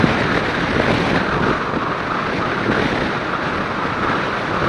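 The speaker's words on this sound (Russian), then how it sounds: "Серьезный боковой ветер, его не видно, но он ощущается очень сильно." A strong crosswind buffets a rider on a motorcycle on an open road, producing a loud, constant roar of wind noise with no speech.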